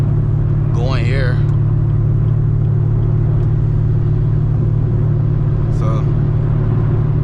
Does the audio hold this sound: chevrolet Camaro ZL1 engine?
yes